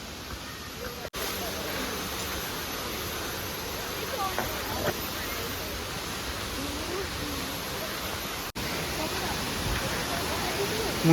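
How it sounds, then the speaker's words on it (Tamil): The second waterfall at Kanching in Malaysia pours steadily, a broad even rush of water that holds through the whole stretch, with two brief dropouts breaking the sound. "இதுதான் செகண்ட் வாட்டர் ஃபால்."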